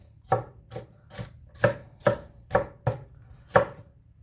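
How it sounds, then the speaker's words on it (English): A knife chops through onion on a cutting board in eight distinct strikes with uneven spacing, each a crisp, close thud. The chopping is loud and clear, with no voices. "got a little bit of onion here we're going to use. Just use the rest of it. Chop it up real small."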